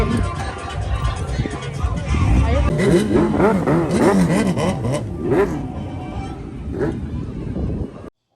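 Heavy motorbikes ride off together in a loud, close roar of revving engines that rises and falls, with overlapping wavering pitch sweeps as they accelerate away and the sound fades toward the end.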